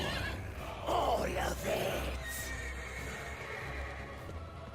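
The Pegasus horse in the Ancient Evil zombies map of Black Ops 4 gives a loud, shrill whinny up close, followed by a lingering ambient hum and a short spoken phrase.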